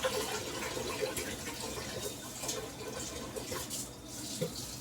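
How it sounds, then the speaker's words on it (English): Tap water runs steadily into a strainer of rice being rinsed for chicken fried rice, a close, continuous splashing hiss with faint clinks from the grains and strainer. "Rinse this rice."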